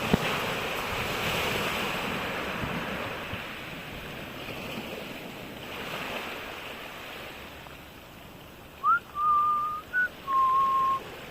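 Waves and wind sweep a cold beach in Aberdeen, Scotland, as a broad rushing wash that swells at times. Near the end, several short whistling tones ride over the surf.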